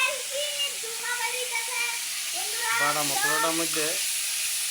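A spice paste hisses and sizzles after it hits very hot oil with five-spice, dried red chillies and bay leaves in a vegetarian dish, a steady crackle that carries on under someone speaking close by.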